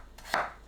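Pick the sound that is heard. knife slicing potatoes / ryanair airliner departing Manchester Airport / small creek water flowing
knife slicing potatoes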